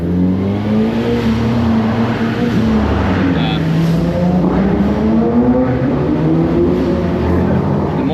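A Daihatsu Copen driving through a tunnel, its engine drone rising and falling with a faint turbo whistle above it, loud and echoing, with people talking over it.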